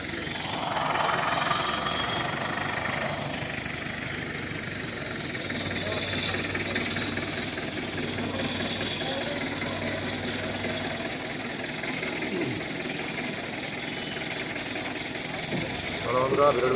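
A vehicle engine idles with a steady mid-pitched rumble while the vehicle is loaded with DJ sound equipment, and voices are heard in the background throughout.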